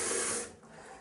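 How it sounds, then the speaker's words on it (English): Fresh water sprays and splashes onto a shower soap holder and glass panel, a steady hissing rush that fades partway through, with no talk. "we'll get that fresh water on the soap holder, a little bit more on this glass"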